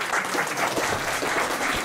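A short burst of audience applause at a press conference in Moscow, brief dense clapping at moderate level without talk.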